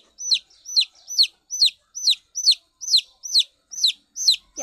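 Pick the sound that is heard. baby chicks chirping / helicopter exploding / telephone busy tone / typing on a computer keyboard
baby chicks chirping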